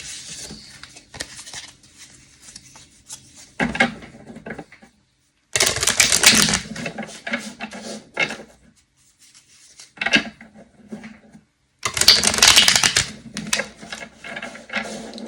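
A tarot card deck is shuffled in several loud, crisp bursts of riffling and rubbing card noise, separated by short quiet gaps.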